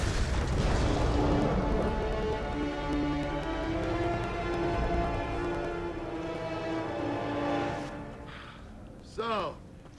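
Heavy booms and gunfire from a Gears of War 3 battle, a dense sustained rumble of explosions and shots for about eight seconds with voices over it, then a sudden drop to quiet and a brief final burst.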